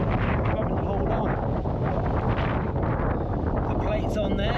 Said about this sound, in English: It's very windy, having to hold on.